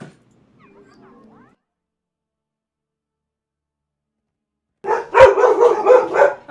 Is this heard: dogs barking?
yes